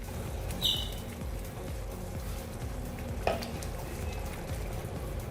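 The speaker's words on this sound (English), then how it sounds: "Keep the flame on a low and then boil this masala, otherwise it will get burnt" Fish masala with coconut paste simmering in a pan on a low flame, giving a soft, steady bubbling sizzle with a couple of faint clinks, quiet and continuous.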